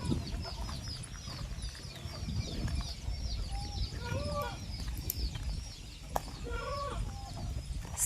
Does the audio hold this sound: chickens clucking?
yes